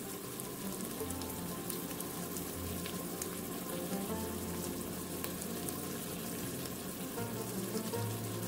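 Liquid smoke hits hot oil inside an Instant Pot and sets off a steady crackling sizzle that stays even and moderately close throughout.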